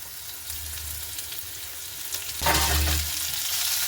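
Chicken paste for momo filling frying in a pan, a soft steady sizzle that swells sharply louder midway as the paste hits the hot oil, with no one talking.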